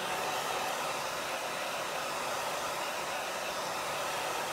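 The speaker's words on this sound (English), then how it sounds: "So just drying this up really quick." A hair dryer blows in a steady, even whoosh, drying chalk paste on a Chalk Couture board, running continuously and fairly close with no talking over it.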